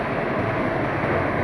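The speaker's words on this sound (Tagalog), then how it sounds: "Ang lakas ng bulwa." A strong gush of running water from a tap after an outage in Parañaque rushes in a dense, steady roar, loud and close with no talk.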